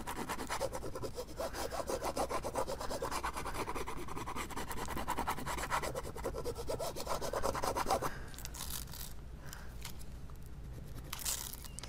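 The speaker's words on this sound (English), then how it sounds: "now I can go ahead and burnish this down" Cricut vinyl being burnished down onto a canvas frame, a dense, continuous close-up scraping rub of rapid back-and-forth strokes, steady throughout with a slight change in texture partway, and no talking.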